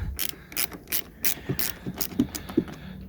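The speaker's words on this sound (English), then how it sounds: "Right, I've got one of my ratchet C spanners, the 10mm one." A 10mm ratchet spanner working a car battery terminal nut on a Mitsubishi Colt, a quick run of close clicking ratchet strokes in an uneven rhythm, with no talking.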